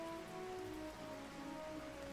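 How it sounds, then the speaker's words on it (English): Steady rainfall in the Kitaria Fables video game patters evenly on surfaces, a soft continuous hiss with faint tonal game music underneath and no voices. "Probably not the best day to do this, because it's raining"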